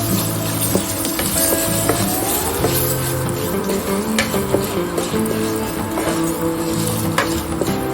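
Okra sautéing in a hot pan with coriander seeds, a steady loud sizzle and crackle with faint stirring scrapes running throughout, close up and without speech.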